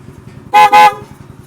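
Two loud, close blasts from a blue Hella horn fitted to a Yamaha Mio motorcycle, a short toot and a second longer one, over a low idling engine.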